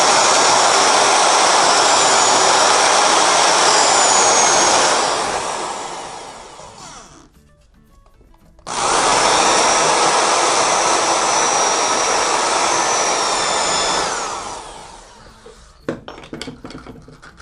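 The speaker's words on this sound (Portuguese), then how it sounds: "E aí é furar." Power drill boring into a furniture panel during cabinet assembly, a loud high whine that runs for several seconds, stops, then drills again before trailing into a few light clicks and knocks.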